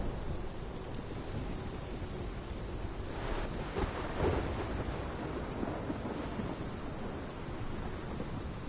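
A thunderstorm in the video game Life is Strange: steady heavy rain and wind, with a deep roll of thunder swelling briefly near the middle before the downpour carries on.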